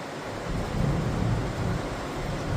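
Steady rain falling outside around a house roof, a constant dense hiss with a low rumbling undertone, even and unbroken throughout, with no talking.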